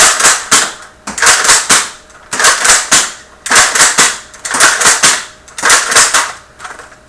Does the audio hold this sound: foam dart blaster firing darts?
yes